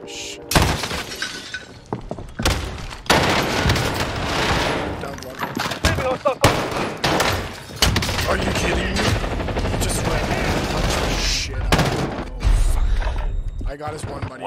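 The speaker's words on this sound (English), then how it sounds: "they're just shooting shit" Gunfire from the battle royale game Call of Duty Warzone, dense bursts of shots and impacts filling the scene, loud and continuous with brief pauses, mixed with game effects and some voices.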